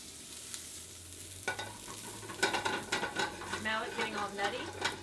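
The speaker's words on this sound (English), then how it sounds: "The butter's going to brown pretty quickly in this hot pan. So we'll add our butter. And it's going to sizzle and get really frothy and brown." Butter sizzles and froths in a hot pan while browning, with a steady frying hiss, occasional stirring clinks and scrapes, and brief pan noises rising partway through.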